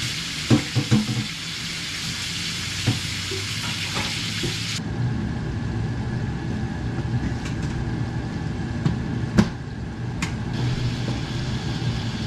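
Oil sizzles steadily in a pan, a constant crackling hiss with occasional clinks and scrapes of utensils, fairly close.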